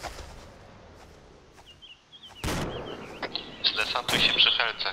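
Gunfire in a Polish-played online war game, with sharp loud bursts of shots and impacts starting midway and recurring, close and harsh over low background rumble, a short whistling tone and bird-like chirps.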